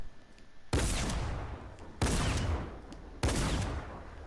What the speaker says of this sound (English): See how I'm shooting right there?